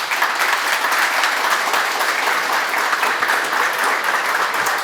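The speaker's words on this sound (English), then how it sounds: "Please give them a big round of applause." A conference audience applauds a panel in a sustained, even wash of clapping that lasts throughout without breaks or voices.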